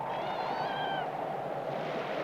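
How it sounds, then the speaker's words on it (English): A small kitten in a winter cabin gives a single short, wavering meow near the start, heard over a constant low background hiss. "Monotony is dispelled by the arrival of Spunky the kitten, a gift from an Indian trapper."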